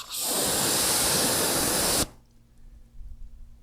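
Water from a hose or sprayer hits a side panel of a car freshly coated with Gyeon Q2 Can Coat, a loud, steady hiss for about two seconds that cuts off abruptly, leaving quiet handling noise.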